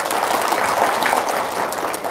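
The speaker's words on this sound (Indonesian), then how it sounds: "Nih, tepuk tangan dong." Short spell of audience clapping at a motivational talk, a dense, even patter of many hands at moderate volume with no voices over it.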